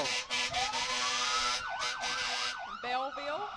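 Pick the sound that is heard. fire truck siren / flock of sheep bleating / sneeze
fire truck siren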